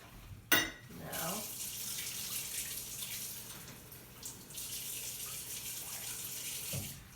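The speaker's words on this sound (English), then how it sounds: "So my method is I use the 1/2 cup to rinse out so you get all the yeast" Warm water runs from a tap into a half-cup measuring cup to rinse out yeast, a steady soft hiss after a sharp knock at the start, continuing evenly at moderate level.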